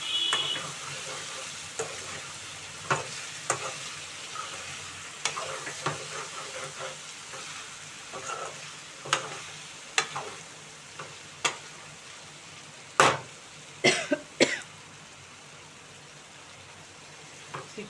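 Chicken gongura curry cooking in a pot gives a constant low bubbling sizzle, with irregular spoon scrapes and taps against the pot that grow louder and more frequent toward the end.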